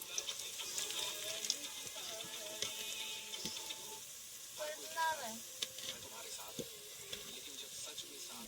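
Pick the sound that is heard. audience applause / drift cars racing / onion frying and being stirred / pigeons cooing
onion frying and being stirred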